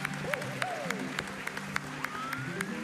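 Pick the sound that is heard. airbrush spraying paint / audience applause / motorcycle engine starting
audience applause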